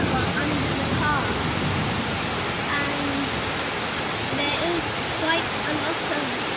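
Floodwater from a violent summer storm in Croydon, London, rushes under a parked car, a loud, steady wash of water noise with faint scattered tonal sounds mixed in.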